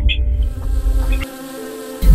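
Bees buzzing in an apiculture animation, a steady close insect drone with layered wingbeat tones that drops in level midway, then swells again at the end.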